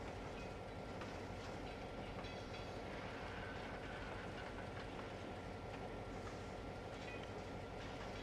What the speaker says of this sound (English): The only thing locomotive does is bounce up and down as you hear the thumps out